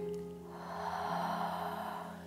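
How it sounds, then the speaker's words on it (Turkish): A slow, deep inhalation during a guided face massage session, a soft airy breath drawn in gently over a couple of seconds against a quiet steady background hum. "Son bir tane. Derince bir nefes al."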